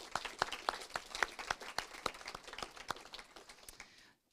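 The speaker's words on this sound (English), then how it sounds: "So can we give them all a round of applause?" Audience applause for graduating seniors at a college senior awards ceremony: scattered, fairly light clapping from a modest crowd, individual claps distinct, fading out near the end into silence.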